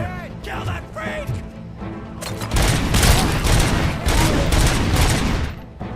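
Rapid bursts of SMG fire in a video game crackle loudly and continuously over the second half, following a quieter stretch where a voice talks over the game's background sounds.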